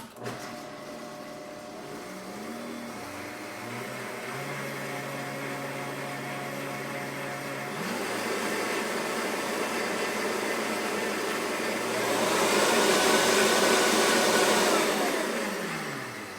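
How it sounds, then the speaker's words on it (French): A Vitamix blender whirs steadily while mixing golden milk with honey. The motor hum gets louder and harsher in two stages as speed increases, then winds down near the end. "si on veut qu'il soit vraiment bien mélangé, on le fait dans un mélangeur. Moi, j'utilise le Vitamix."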